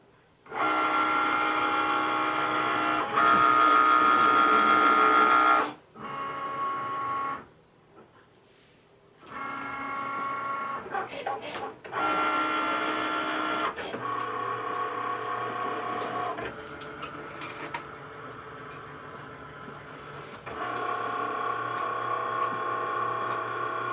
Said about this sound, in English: I will hit the Cricut button again and have it cut a second time